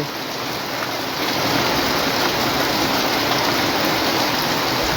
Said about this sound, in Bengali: রাতের থেকে একটানা বৃষ্টি হচ্ছে